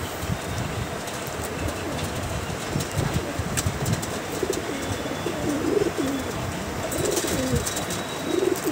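Pigeons kept in a loft for sale, the birds in moult, coo softly and repeatedly close by over a steady background hum, with scattered rustles and clicks.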